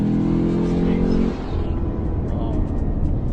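A Lexus RC F sports car engine revs hard, its loud, strained roar holding steady before easing into a lower rumble, with no talk over it.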